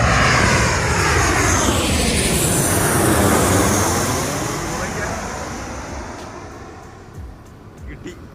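A passenger jet roars loudly at Karippur airport in Calicut as it lands or takes off, the heavy engine rumble filling the air, then slowly fading as the plane moves away.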